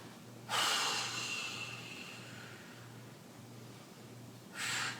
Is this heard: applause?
no